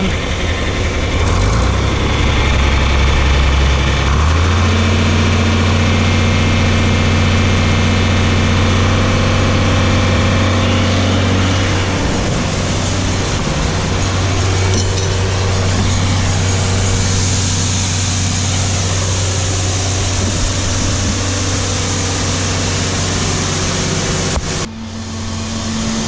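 An old John Deere 4020 tractor engine runs steadily while driving a grain auger moving wet corn during an Iowa harvest, a loud, close low rumble with a constant drone that drops in pitch after a few seconds.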